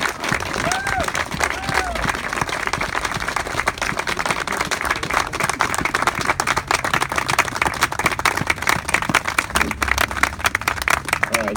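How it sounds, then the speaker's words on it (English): A Veterans Day ceremony crowd at a Vietnam War memorial claps steadily for Vietnam veterans, dense sustained applause throughout with a couple of faint cheers or whistles early on. "Round of applause for our Vietnam veterans."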